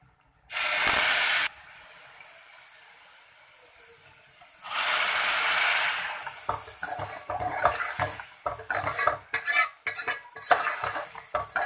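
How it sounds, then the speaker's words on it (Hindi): Water hits hot roasted semolina in a pan with two loud bursts of hissing sizzle while making halwa, followed by clattering stirring and scraping as the sizzle fades. "अब इसके अंदर डालेंगे पानी। पानी ज़्यादा नहीं डालना,"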